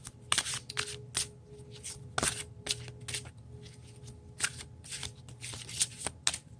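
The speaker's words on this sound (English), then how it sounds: "let me pull one card from my Oracle deck" A Metatron Oracle card deck is shuffled up close in quick, irregular bursts of crisp riffling and slapping, with short pauses between.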